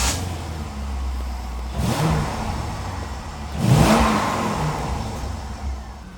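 Modified diesel Mercedes engine, one of an OM606, OM603 or OM617, idling with a low rumble, then revved twice in swelling bursts, close and fairly loud, with no talking.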